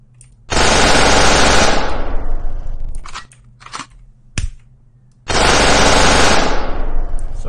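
Enemy gunfire in the video game Desert Throne: two loud, sustained bursts of rapid automatic shots, each lasting over a second, separated by a stretch of scattered softer clicks and a single sharp crack.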